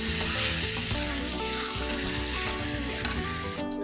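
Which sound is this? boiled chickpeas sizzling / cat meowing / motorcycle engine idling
boiled chickpeas sizzling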